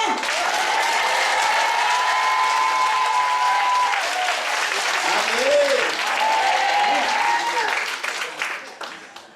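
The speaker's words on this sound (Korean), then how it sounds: "자 우리 한번 손뼉 치고 외치면서 할렐루야 아멘." A church congregation claps together during a worship service, a dense, loud burst of applause sustained for several seconds before tapering off, with voices calling out over it.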